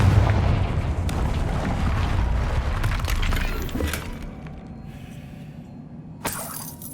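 Confringo explosion spell in the video game Hogwarts Legacy, heard as a loud crackling, shattering blast with debris-like clatter that fades after about four seconds into quieter ambience, ending with a sharp burst.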